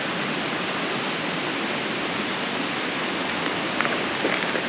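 A small river flows steadily beside a morning walking path in British Columbia, its broad, even rushing wash continuous and close, with faint brighter splashes near the end.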